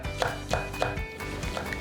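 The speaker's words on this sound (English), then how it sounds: "Slice the green onion to measure 2 tablespoons." A knife slices green onion on a cutting board, five or six crisp, evenly spaced chops close up over a faint background hum, with no voices.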